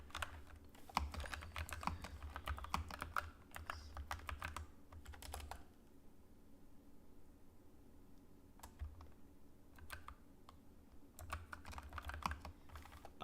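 Computer keyboard typing in bursts of rapid, close clicks, pausing for a few seconds of near silence midway before resuming; fairly quiet with no voices.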